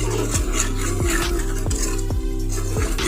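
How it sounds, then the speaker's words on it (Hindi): A spoon mixes whole cumin, salt and spices in a pan while cooking chicken liver, giving repeated sharp metallic clinks and scrapes at a steady rhythm over a soft background sizzle. "इन तमाम चीज़ों को शामिल कर लेना है और चम्मच की मदद से अच्छे तरीके से मिक्स कर लेना है।"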